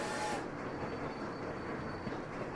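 Train rolling through a junction in the video game Sweet Transit, a short steady rumble of rail cars with a brief brighter burst at the start, fairly quiet and with no talk.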